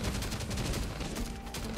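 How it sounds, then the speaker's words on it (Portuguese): Rapid gunfire crackles in the survival game Last Day on Earth, a dense, continuous stream of shots that fills the whole moment at an even loudness, with no voice over it. "Vai lá mais um tiro do Zequinha."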